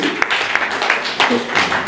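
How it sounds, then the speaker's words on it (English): A crowd gives a round of applause for a man named Ashley at a gathering, with dense overlapping hand claps rippling on over a short stretch. "let me to give a round of applause to brother Ashley"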